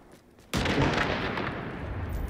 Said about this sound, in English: I hear explosions, yeah.